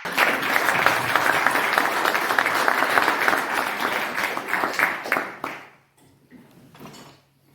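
A burst of audience applause at a Hackaviz data-visualization party award ceremony, dense and even for several seconds before thinning to a few scattered claps and near quiet.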